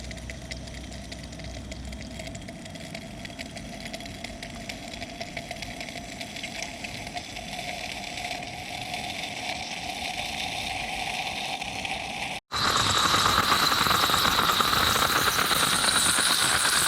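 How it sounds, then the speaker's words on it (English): Moka pot brewing coffee on a camp stove outdoors: a steady roaring hiss runs throughout, then cuts briefly and returns louder and brighter, with no voices. "So we're gonna let this thing start brewing"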